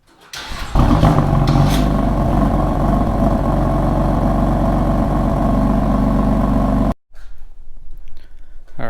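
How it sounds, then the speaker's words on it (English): A BMW M3 engine runs loudly and steadily as the car is pulled out, a deep continuous rumble that cuts off abruptly near the end, leaving quieter background noise. "I'm gonna go ahead and pull the car out so we can get a better look at it outside."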